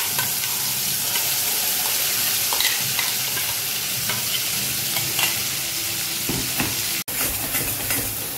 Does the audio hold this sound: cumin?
yes